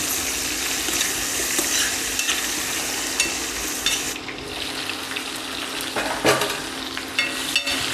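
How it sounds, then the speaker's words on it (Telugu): Onions, green chillies and drumstick pieces sizzle in a pan, a steady crackling fry close by, with occasional stirring scrapes and clinks. "ముందుగా ఉల్లిపాయలను, పచ్చిమిరపకాయలను, ములక్కాడను వేసుకుని కాసేపు మగ్గనివ్వాలి"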